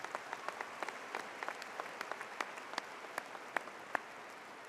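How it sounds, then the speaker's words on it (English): An audience applauds a commencement platform party, a faint, distant patter of many hands clapping irregularly in a large hall, with sharper individual claps standing out. "Let's give our platform party a round of applause."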